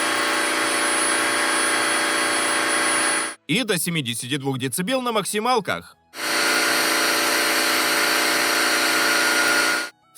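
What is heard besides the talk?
wet vacuum cleaner running at high power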